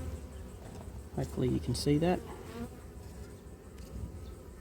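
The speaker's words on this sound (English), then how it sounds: "So the bees are cleaning up the old honeycomb that's in there." Honey bees buzz steadily inside a hive during a spring inspection, a faint continuous hum under a brief spoken remark.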